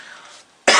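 A single harsh cough bursts out near the end, loud and close, following a stretch of quiet voice.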